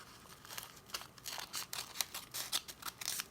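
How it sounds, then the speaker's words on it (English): Scissors snipping along the fold line of a paper snack bag, a close series of crisp, irregular cuts with faint paper crinkling, no voices. "cut along this fold line"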